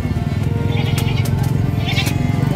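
Goats at the San Carlos City livestock market bleat repeatedly in short wavering calls over a constant crowd murmur, fairly close and loud.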